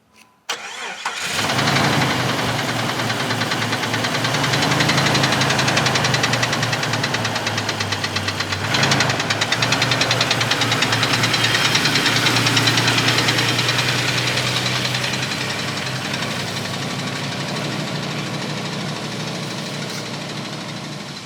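A Jeep engine fitted with a turbocharger kit starts and then runs loud and close, a steady rough knocking rumble that holds for about twenty seconds and eases slightly toward the end.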